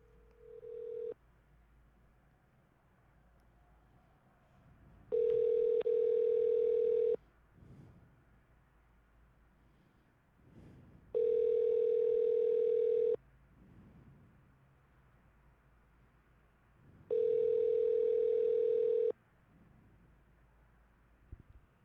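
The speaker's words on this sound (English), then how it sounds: "I knew he wasn't going to pick up the phone." A telephone call rings out unanswered: a clipped tone at the start, then three more loud ringback bursts of about two seconds each, spaced evenly with quiet gaps between.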